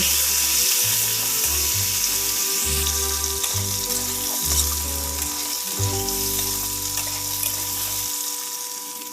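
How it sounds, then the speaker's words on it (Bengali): Pumpkin, potato and papaya pieces frying together in a pan, a strong steady sizzle up close, with a low pulsing hum running underneath that stops shortly before the end. "কুমড়োটাকেও একের সঙ্গে ভালোভাবে ভেজে নেব"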